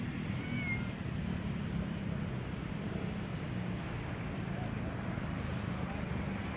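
A cat gives a meow outdoors by Manila Bay in the morning, the cry brief and faint against a steady wash of wind or water noise, with a person speaking nearby.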